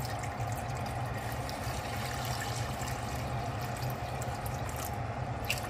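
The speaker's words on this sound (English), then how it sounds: "I'm just going to add some water" Water trickles and pours steadily into a cooking pot being readied for basmati rice, a soft continuous liquid rush heard close up with no talking over it.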